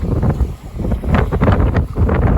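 Wind gusts buffet the microphone on a beach at low tide after a storm, a steady low roar that swells and eases without pause, with no one speaking.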